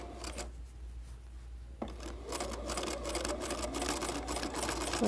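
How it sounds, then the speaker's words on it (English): A sewing machine stitches lace onto a pillowcase, starting after a quiet pause with a steady, close, continuous mechanical whir that runs to the end. "I'm going to straighten out my lace, and I'm going to sew."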